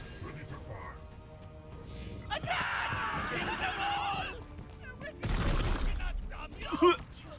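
A gunfire volley rings out in the Warhammer 40,000 Chaos Gate - Daemonhunters video game: a burst of rapid shots followed by a second sharp salvo and impact, with someone speaking beforehand.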